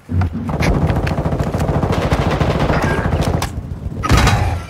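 Rapid automatic gunfire in a multiplayer shooter video game, a loud sustained burst of closely spaced shots lasting several seconds, a brief pause, then another short burst.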